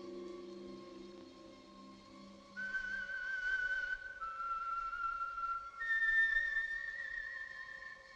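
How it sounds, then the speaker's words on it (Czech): A person whistles a sustained, wavering tune alone, in a Czech animated adventure comedy; the clear tones shift pitch in long held notes, fairly close and moderately loud, with faint background music beneath. "Hvízdáte jako kluk."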